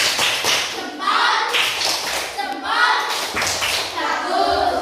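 An elementary school class performs a rhythmic thumbs clapping chant, patterned bursts of claps and taps alternating with children's chanting voices, lively and close throughout.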